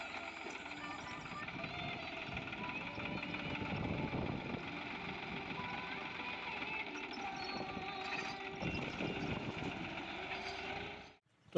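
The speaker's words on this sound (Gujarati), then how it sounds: "એને આપણે ટ્રેક્ટર પાછું વારી લીધું છે." Tractor engine idling and running steadily nearby while the tractor is turned back on a farm, a continuous rumbling drone with metallic mechanical rattles that fades out abruptly at the end.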